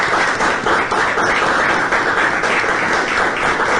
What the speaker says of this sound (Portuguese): Uma salva de palmas à humanidade de cima.